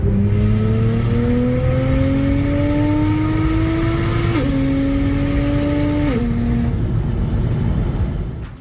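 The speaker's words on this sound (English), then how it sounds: "we ended up testing it through a few gear pull." A single-turbo BMW N54 car with an 8HP automatic transmission pulls hard through the gears, a loud, close engine note climbing steadily in pitch, dropping at a quick shift, then climbing again before easing off near the end.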